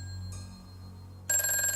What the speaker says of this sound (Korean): 안 되겠구나 싶어 경찰에 전화하려는데 집 전화가 울렸어